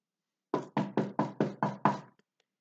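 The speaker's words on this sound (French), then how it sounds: "Quelqu'un frappe à la porte." Seven evenly spaced knocks on a door, firm and close, in a steady rhythm with nothing else around them.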